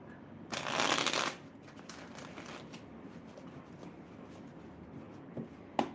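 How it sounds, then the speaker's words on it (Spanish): Tarot cards being shuffled in a quiet room, a short crisp riffle of cards followed by soft handling and light taps as cards are drawn, close and alone. "Quiero sacar algunas cartas más para la energía de tu persona especial"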